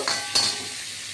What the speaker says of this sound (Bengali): দেখুন পেঁয়াজগুলো ছেড়ে দিলাম পেঁয়াজ একটু ভাজা ভাজা হবে